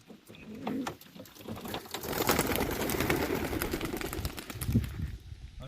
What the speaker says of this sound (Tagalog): Ayan sa po sila naglilipara na mga ibon